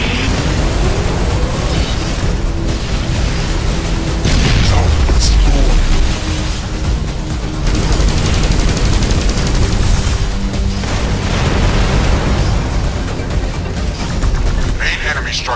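Explosions and booming blasts as a shredder cannon is destroyed in the X-Morph Defense video game, dense and continuous over a steady bed of game music, with a synthetic announcer voice speaking over the action.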